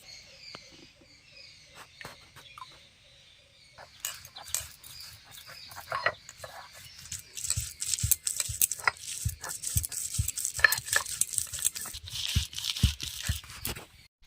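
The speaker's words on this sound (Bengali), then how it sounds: "আমি ডাল সব বেটে নিচ্ছি শিলে" Soaked lentils ground by hand on a traditional flat grinding stone (shil) in a village kitchen: a dense run of crunching, scraping strokes, starting sparse and soft and then growing busier and louder, close by with no talk.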